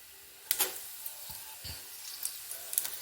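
Crushed fennel seeds and cardamom being sautéed in a pan for hotel-style biryani, a faint low sizzle broken by a few sharp clicks and taps of stirring.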